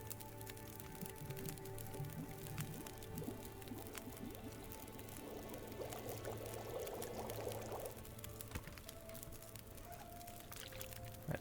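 Water being drunk in The Long Dark, a liquid pouring and gurgling sound rising mid-clip over a steady low ambient drone and game music, moderately quiet throughout.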